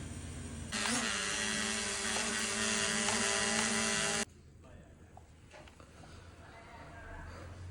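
An A13 toy drone flies indoors with a loud, steady high-pitched propeller whine that cuts off abruptly partway through, leaving quieter room noise with faint handling sounds.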